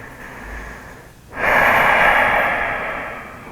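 Deep breath during a yoga forward fold, a quiet lead-in then a long, steady airy exhale that stays loud and slowly fades, close and alone.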